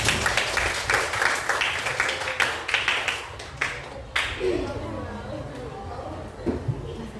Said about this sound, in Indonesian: tepuk tangan untuk Aisyah